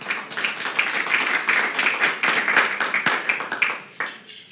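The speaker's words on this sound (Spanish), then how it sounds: "Démosle un aplauso a nuestro Dios." A congregation at a church Bible study claps and applauds steadily for several seconds, dense and fairly close, tapering off toward the end.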